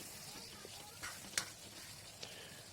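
Chicken curry meat sizzling quietly in oil in a pot, with a few soft scrapes and clicks as it is stirred, steady low frying hiss throughout.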